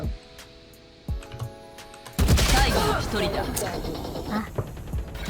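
Valorant gunfire: a few sharp, spaced shots at first, then a dense burst of rapid firing mixed with game effects, loud and close, while a voice talks excitedly over it.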